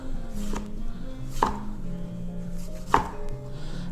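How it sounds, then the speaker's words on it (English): A slightly dull kitchen knife cuts tomatoes on a cutting board, two sharp, close chops about a second and a half apart over a low background hum. "Get the tomatoes out real quick. And this is really easy. Just cut them down."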